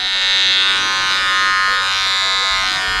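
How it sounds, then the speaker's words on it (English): An Andis Slimline Pro hair trimmer running with a freshly oiled blade gives a steady, close electric buzz that holds at an even pitch and loudness for the whole stretch, with no talking. "run for 30 seconds to a minute, just so that oil distributes evenly around the trimmer"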